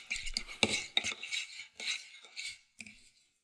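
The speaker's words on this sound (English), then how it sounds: "We're just going to mix this all together." Spicy tuna tartare is mixed with olive oil in a bowl, heard as a series of light metal scrapes and clinks of a utensil, soft and irregular before fading out.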